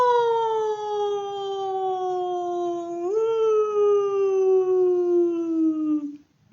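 A Mercedes-Benz O405 bus gearbox gives a steady mechanical whine with a growling edge, sliding slowly downward in pitch as the bus decelerates, then cutting off abruptly.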